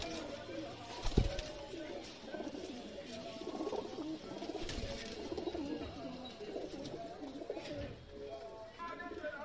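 Aliwala and Teddy pigeons coo in a loft in R.S. Pura, their soft, throaty calls rolling on and off over a steady background murmur for several seconds, with one sharp knock early on.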